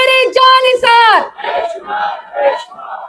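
Crowd chanting political slogans for Imran Khan at a rally, loud call-and-response shouting: a few long drawn-out yelled lines followed by shorter rhythmic group chants, close and forceful.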